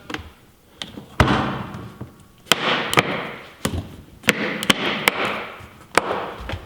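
The lid of a Condition 1 range case, packed with pistols, magazines and lights in new foam, is handled and shut with a series of sharp, loud plastic clunks and knocks scattered irregularly.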